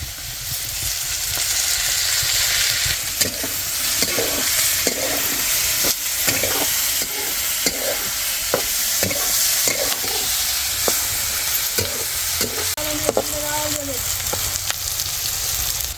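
Pieces of food frying with plenty of oil in a pan make a loud, constant sizzle and hiss, with frequent scraping and clinks from stirring scattered throughout.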